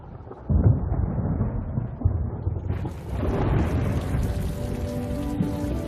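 A heavy rainstorm in Botswana, with dense rain pouring down and deep rolling thunder rumbling through it, loud and close.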